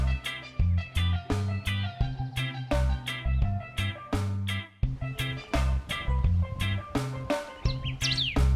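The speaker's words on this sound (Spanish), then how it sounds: "Entre las intrincadas ramas hay buena cantidad de aves, entre ellas está la choca corona negruzca." Dense chorus of birds calling among tangled branches in the Traslasierra hills, black-crowned antshrike among them, with many sharp chirps, whistles and rapid notes layered close and loud over a continuous background.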